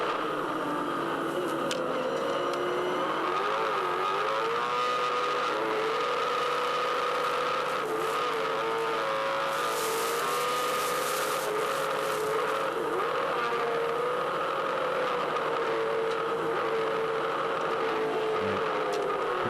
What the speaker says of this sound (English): Clutch slip, massive clutch slip.